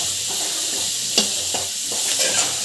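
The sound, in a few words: ginger sautéing in a pan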